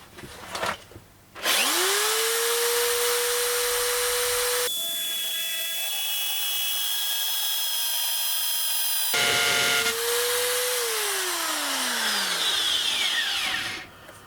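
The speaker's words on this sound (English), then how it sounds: "It's a solid metal bonded drill, and I'm not hammering it, simply smooth drilling." A power drill with a solid metal bonded bit whines loudly up to speed and grinds steadily through hard material without hammering, pausing and restarting, its pitch sagging as it winds down.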